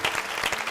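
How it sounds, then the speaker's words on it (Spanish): An audience applauds with steady, dense clapping that holds an even level throughout, with no talk over it. "Pues vamos a mandarles un aplauso"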